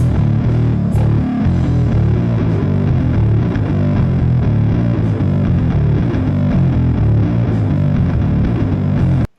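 A dense band mix with thick, compressed bass holding a steady, even level under guitars and drums, loud throughout before stopping abruptly at the end.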